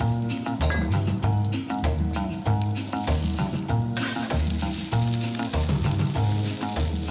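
Vegetables sizzle steadily in hot olive oil in a pan, a constant frying hiss with occasional light clinks of utensils, set against prominent background music.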